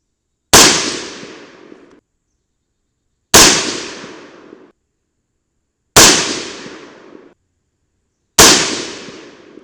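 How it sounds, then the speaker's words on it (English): Four loud, sharp rifle shots from a 300 BLK rifle with a Ballistic Advantage 10.3-inch Hanson barrel, evenly spaced about two and a half seconds apart, each with a quick decaying echo and silence between; no talking. "let's shoot a couple more, see if they group at all"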